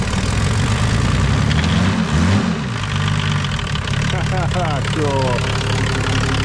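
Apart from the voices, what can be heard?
turbodiesel car engine idling, running on vegetable oil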